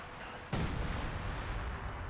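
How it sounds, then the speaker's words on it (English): In Company of Heroes 2, an artillery piece fires a single loud, heavy boom about half a second in, followed by a long rumbling tail of battlefield noise. "Artillery piece just giving him hell"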